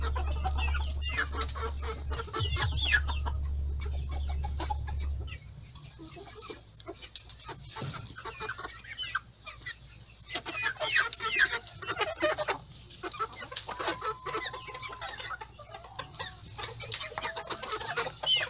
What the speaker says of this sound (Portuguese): Mas aí estão eles muito bonitos, esses frangos também